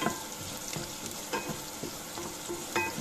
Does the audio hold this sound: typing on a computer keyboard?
no